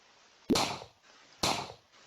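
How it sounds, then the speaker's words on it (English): Two sharp, punchy blasts about a second apart, each with a short noisy decay, from a gun tower firing projectiles in a tower-defense game. "the sound that gets played when the tower fires a projectile"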